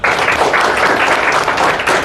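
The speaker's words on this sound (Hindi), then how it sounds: "तालियां बजाओ" A group claps in steady, dense applause throughout a short stretch during a motivational talk on comparison and jealousy, loud and continuous with no voices heard over it.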